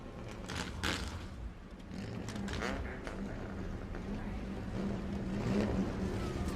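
The number 17 Bomber A race car leading the field on memorial laps at New Smyrna Speedway, a continuous rumbling engine drone from several cars that swells slightly toward the end.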